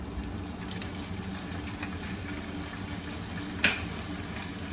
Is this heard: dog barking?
no